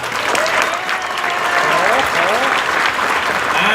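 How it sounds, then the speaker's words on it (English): Applause fills the room at the 2017 Sapolin Awards ceremony marking the anniversary of the Americans with Disabilities Act, sustained and loud from a sizable audience, with voices audible over the clapping. "two people you should especially applaud because they helped to make tonight possible"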